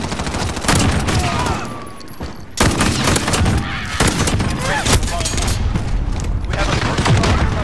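Heavy gunfire from a JAK-12 shotgun in Call of Duty, a dense run of loud booming blasts with a short gap around the two-second mark, continuing almost without pause through the clip.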